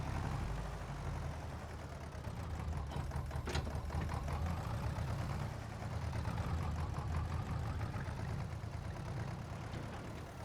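A tractor engine drones at a steady idle-like hum while backing up slowly in Farming Simulator 22, a continuous mid-pitched rumble with a faint ticking texture and no speech.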